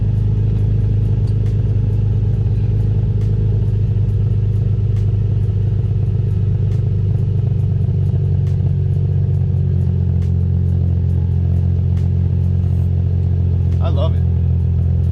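A Nissan 350Z fitted with a Flashark Racing Y-pipe single exhaust idling loudly and steadily nearby, a deep, even rumble held throughout, with a voice faintly present over it.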